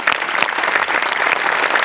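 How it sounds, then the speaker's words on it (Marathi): A studio audience on a Marathi comedy show claps for the day's guests: loud, dense, continuous applause that holds steady for about two seconds, with no speech over it. "गेस्ट आपले जे आज आले आहेत त्यांच्यासाठी एकदा जोरदार टाळ्या वाजवूया"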